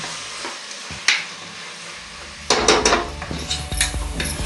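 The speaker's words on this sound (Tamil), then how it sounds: "தக்காளி பாருங்க நல்லா வதங்கிடுச்சு" Tomatoes sautéing in a pan under a soft sizzle, quiet at first with a single clink, then a spoon scrapes and knocks repeatedly against the pan in lively stirring.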